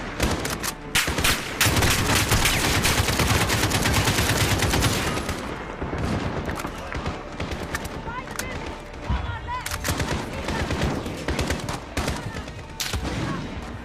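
Sustained, dense gunfire from a Call of Duty: Modern Warfare battle, with rapid automatic bursts and heavy impacts nearly continuous for about fourteen seconds, loud and close.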